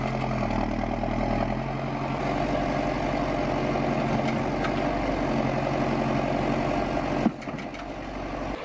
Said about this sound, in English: This is a wood harvesting tractor custom designed by the customer in Latvia using a combination of equipment from ZIL, MTZ, Kamaz and